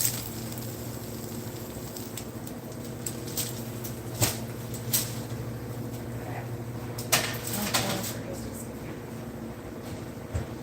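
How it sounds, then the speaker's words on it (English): Fresh buffalo chicken wings sizzle while cooking, a steady close hiss broken by scattered sharp pops and crackles over a low background hum. "You can hear them sizzling."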